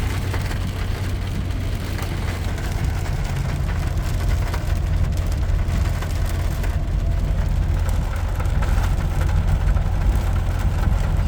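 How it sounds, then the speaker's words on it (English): Hard rain drums steadily on a Ford F-150 PowerBoost pickup truck while it is driving, a dense continuous wash of droplets over low road and engine rumble, loud and unbroken throughout with no talking. "hard rains hitting the vehicle."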